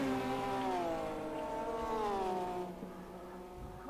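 A Porsche race car in a racing video game, part of a virtual 24 Hours of Le Mans, drones loudly down the straight with steady high engine harmonics that slide in pitch, then fades and drops away as it passes.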